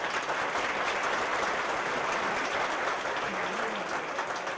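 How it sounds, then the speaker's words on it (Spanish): A hall of people at a memorial tribute applauds the honoree's sisters, dense steady clapping that continues without pause, moderately loud and even throughout, with no talk over it. "Un aplauso para ellas"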